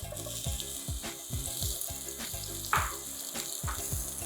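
Onions sautéing in hot oil in a pan, a soft continuous sizzle with repeated scraping and stirring knocks from a utensil, quiet and close.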